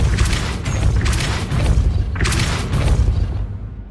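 The Depulso spell is cast in the Hogwarts Legacy video game, producing loud, heavy booming blasts. About three forceful whooshing impacts roll over a dense low rumble, with no talking.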